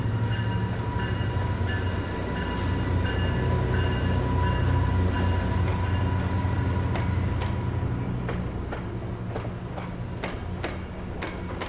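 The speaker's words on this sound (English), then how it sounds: "All around me, Metro-Link trains are going in various directions." Metrolink commuter trains rumble through a busy station at evening rush hour, a continuous heavy roar with clanks and metallic squeaks, heard close and steady without talk.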